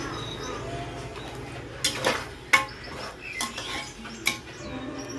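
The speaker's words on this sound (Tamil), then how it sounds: "இந்த கறியை போட்டுக்கணும், பீஃப் அதில் போட்டுட்டு நல்லா மிக்ஸ் பண்ணிக்கணும்" Beef with ground spices stirred in a pan for a beef gravy, giving a few scattered scrapes and clinks of a utensil against the pan over a low, steady background hum.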